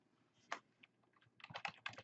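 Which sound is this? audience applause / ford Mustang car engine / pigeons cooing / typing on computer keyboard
typing on computer keyboard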